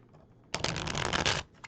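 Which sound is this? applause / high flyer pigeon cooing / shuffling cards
shuffling cards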